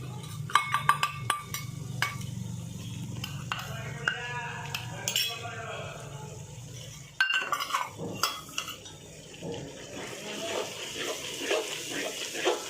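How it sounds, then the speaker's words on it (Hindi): Ginger-garlic masala with coriander powder and garam masala stirred in a pan for chicken daalcha, with intermittent metal spoon scrapes and clinks against the pan, moderately close, plus some quieter kitchen noise. "इस तरह से हिलाते रहिए"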